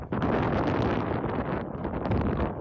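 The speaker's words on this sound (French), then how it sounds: "il y a du vent de fou" Strong wind buffets a microphone outdoors on a city street in Madrid, a continuous loud rumbling roar that fills the clip without any voice.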